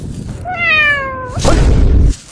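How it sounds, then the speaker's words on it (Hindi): A cat's meow played as a sound effect, one clear drawn-out call followed by a brief thump, close and alone without any talk. "कभी बिल्ली का आवाज आ रहा है"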